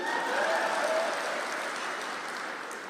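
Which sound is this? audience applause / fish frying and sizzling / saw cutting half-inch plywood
audience applause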